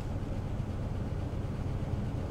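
A car engine idles with a soft, steady, low rumble that holds even throughout, with no voices.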